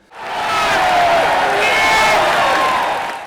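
A crowd of about 2,300 fans cheers at a rugby ground, a broad roar of voices and whoops that swells quickly and holds steady and loud throughout.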